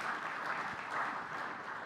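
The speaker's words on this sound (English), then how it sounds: "And then, we can clap for that." A church congregation at a Sunday worship service applauds a couple's 53rd wedding anniversary, a soft, steady patter of many hands clapping briefly in a large room.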